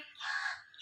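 A crow gives one short, faint, hoarse caw from a distance, under a second long.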